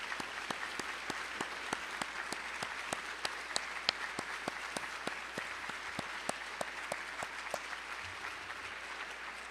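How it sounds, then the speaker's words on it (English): An audience at a high school awards night applauds scholarship donors with sustained clapping that fills the room, steady and even throughout, with a few sharper individual claps near the front. "so we can honor you with a well-deserved round of applause"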